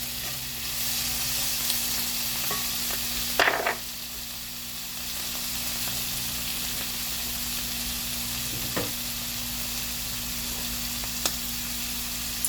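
Drained canned mushrooms go into a pan of sizzling fajitas made with leftover steak, giving a steady close frying hiss with a brief louder splatter as they hit the hot pan and a few soft clinks.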